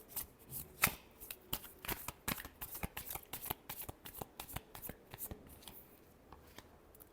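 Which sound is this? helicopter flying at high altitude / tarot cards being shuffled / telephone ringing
tarot cards being shuffled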